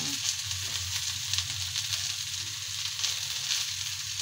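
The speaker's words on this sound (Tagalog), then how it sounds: "Ginisa ko na yung mga sibuyas, bawang, luya, kamatis at sal." Onions, garlic, ginger and tomatoes sautéing in a pan give a steady, loud, even sizzle that runs the whole time, with a faint low rumble underneath and no voices.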